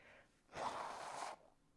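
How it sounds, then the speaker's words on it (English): A person blows their nose in one loud, close, forceful burst lasting under a second, framed by quiet breathing and sniffling before and after, with no talk. "Sorry, I got to blow my nose."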